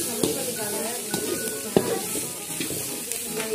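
Vegetable noodles with green chilli sauce sizzle softly in a pan while a utensil stirs and tosses them, giving scattered taps and knocks against the metal over a steady frying hiss.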